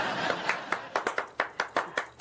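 A few people in a police station clap their hands in a loose, uneven rhythm, each clap sharp and distinct, moderately close, with faint background murmur beneath.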